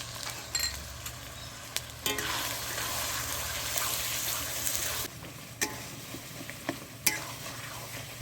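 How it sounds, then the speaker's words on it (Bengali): Spice masala with chopped tomato, salt, turmeric and chili powder frying for Bengali khichdi, a soft steady sizzle with a louder hissing stretch in the middle and a few light spatula taps, no voices. "মশলাটাকে ভালোভাবে কষিয়ে নেব"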